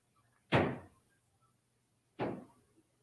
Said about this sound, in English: Somebody knocking on my door.